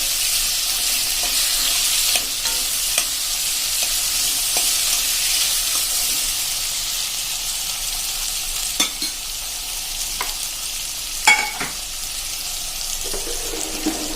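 Ridge gourd and chilli sambharo tossed in oil with seeds and spices, a steady close sizzle with intermittent scrapes and knocks of the stirring spoon, running on without speech.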